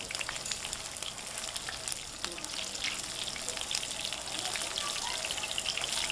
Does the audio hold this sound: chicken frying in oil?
yes